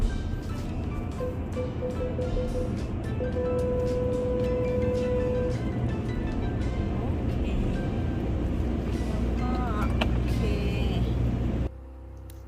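A car creeps slowly into an automatic car wash, its steady low engine hum and the wash machinery droning continuously until the sound drops off sharply near the end.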